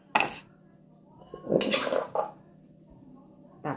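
Isan-style papaya salad with field crab is scooped onto a plate, making a few short clatters and clinks of utensil against dish, with quiet pauses between them.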